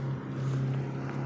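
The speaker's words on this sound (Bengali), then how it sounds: "একটা ট্রলার এই যে যাচ্ছে।" A fishing trawler motors past on the water, its engine a steady low drone mixed with wind and water noise, heard briefly at moderate distance with no speech.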